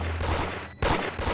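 Rapid gunfire in the Roblox game Midnight Cleaners, set in a laundromat: close, loud repeated shots in two quick bursts separated by a brief gap.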